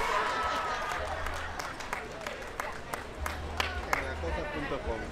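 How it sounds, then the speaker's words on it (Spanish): Outdoor crowd at a Peruvian flag-raising ceremony claps in a steady, moderately distant spread of applause, with a few sharper individual claps standing out over murmuring voices and background chatter. "El aplauso, la bienvenida, venga."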